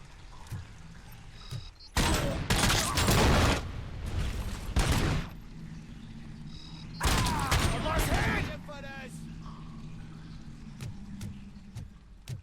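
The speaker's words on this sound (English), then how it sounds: "Lays heavy suppressive fire." Heavy suppressive gunfire in the RoboCop: Rogue City video game comes in two loud sustained bursts. Quieter game ambience fills the gaps between them, and a short metallic rattle follows the second burst.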